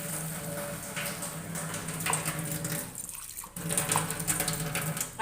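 Spice-rinse water poured from a bowl into a pan of fish curry makes a steady splashing, gurgling pour that briefly dips before resuming, no voices.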